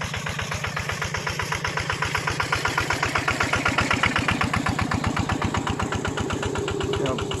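A water pump engine runs steadily outdoors, a loud, close, rhythmic thumping putter that holds an even idle pace throughout.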